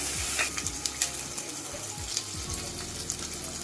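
Onion, ginger and garlic paste fries in a pan for a prawn curry, giving a steady close sizzle with scattered crackles and a few scraping stirs, and no voices.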